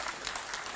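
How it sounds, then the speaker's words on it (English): Short burst of audience applause at a public conversation event with the Arunachal Pradesh Chief Minister, a steady, dense patter of many hands at moderate level throughout. "Round of applause for that."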